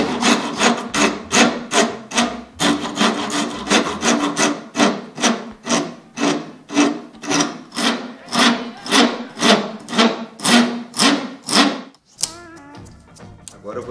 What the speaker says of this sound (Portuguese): nós vamos tirar a madeira aos poucos para ver como é que está a situação lá dentro